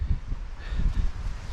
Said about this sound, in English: The further up I'm going now, the more windy it's getting